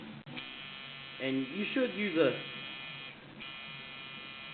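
A coil tattoo machine runs with a steady electric buzz throughout, close and fairly loud, while a voice speaks briefly over it in the middle.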